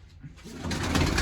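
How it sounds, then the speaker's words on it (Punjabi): Pigeons coo close by at a Punjabi home loft, a short soft burst of throaty calls that swells as it goes. "ਆਹ ਗੁਰੀ ਦੇ ਕਬੂਤਰ ਆ ਜੀ ਸਾਰੇ"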